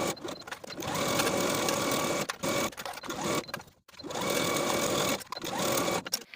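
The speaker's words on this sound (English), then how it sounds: "stitch all around the pocket with a 3/8 inch seam allowance" A sewing machine stitches pant seams around a pocket in fast continuous runs, close and clear, stopping briefly twice before starting again.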